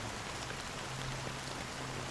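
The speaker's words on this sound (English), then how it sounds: "How long has this rain been ongoing?" Steady rain falling in the video game Honkai: Star Rail, a dense, even hiss of drops that stays constant and moderately soft throughout, with no voices.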